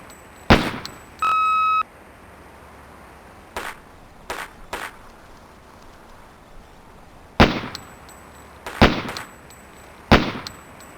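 Pistol shots crack at range targets during a police SWAT training drill in Police Quest: SWAT, several loud reports in uneven bursts around a short electronic beep, with a quiet range hum between shots.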